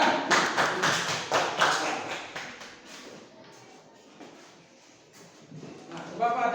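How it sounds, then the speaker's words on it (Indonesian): Children in an Indonesian classroom clap together for a classmate, a run of quick, fairly loud claps over the first few seconds that thins into scattered taps and shuffling, with a teacher's voice speaking near the end. "Yuk beri tepuk tangan dulu untuk Anindya."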